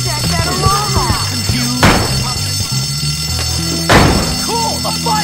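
A school fire alarm rings in the Bully video game on PS4, a steady buzzing tone running throughout, broken by two loud thuds, while characters talk and shout over it.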